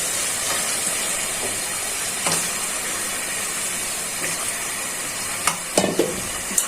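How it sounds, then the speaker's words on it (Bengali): Country chicken frying in oily spice masala for a jackfruit-seed curry gives a loud, steady sizzle and hiss, with a few sharp stirring scrapes near the end. "এখন মুরগিটা দিয়ে দিচ্ছি। বেশি মুরগিটা কষিয়ে রান্না করবো।"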